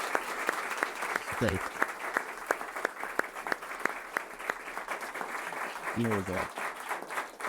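An audience applauds Tariq at a curator's talk, steady clapping that carries through the whole stretch while a speaker briefly talks over it.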